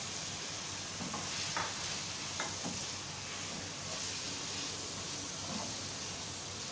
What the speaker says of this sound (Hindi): मसालों के साथ थोड़ा सा भूने आलूओं